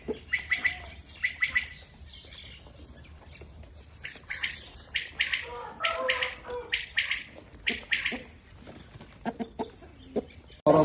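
Purebred roosters crow and cluck nearby in repeated bursts, with other birds chirping and faint voices in the background.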